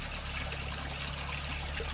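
Water trickles steadily from a small homestead waterfall into a pond, a soft continuous outdoor babble at low level with no voices.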